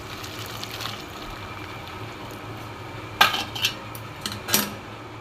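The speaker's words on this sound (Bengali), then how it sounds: "এবার আমি একটা জায়গায় আমি ঢেলে নেবো জলটা। এই গামলা বাটিটাই আমি ঢেলে নেব।" Boiling water meant for soaking doi bora is poured into a metal bowl in a home kitchen, heard as a quiet liquid wash followed by a few sharp metallic clinks and knocks late in the clip.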